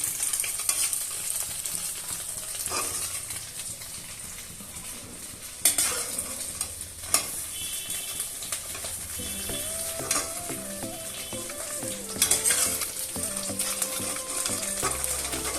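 Mutton sizzles and fries in a pan while a metal spoon stirs and scrapes it, with sharp clanks of utensil on pot rising over a steady frying hiss.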